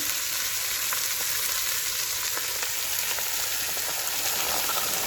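Vegetables hit a hot pan beside seared lamb neck and sizzle loudly and steadily, a dense crackling hiss that carries on without a break and with no one speaking over it.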